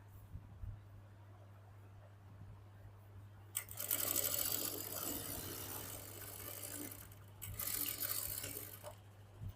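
An electric sewing machine runs a half-inch seam on a simple salwar in two bursts, a longer whirring run and then a shorter one, close and fairly loud over a steady low hum.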